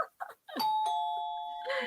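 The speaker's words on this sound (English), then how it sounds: "It's not even a real doorbell ring." A two-tone electronic doorbell chime rings once, its bright tones sustaining and slowly fading, with brief voices just before and a voice returning at the end.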